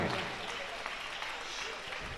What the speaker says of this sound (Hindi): आप जोरदार तालियां बजाएं।